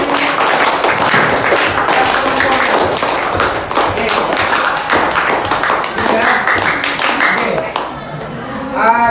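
A classroom breaks into loud applause, many hands clapping in a dense, steady patter that fades near the end as a voice begins to speak.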